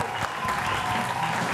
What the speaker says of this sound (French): Ça s'applaudit, public.